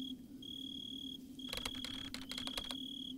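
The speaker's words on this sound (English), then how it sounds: "Only crickets chirping and an empty hum of silence behind it." Crickets chirping at night in a dense forest within the video game Drowning: a steady high trill over a low electrical hum, joined midway by brief rapid clicking bursts, all faint and with no voices.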